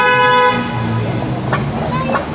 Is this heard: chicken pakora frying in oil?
no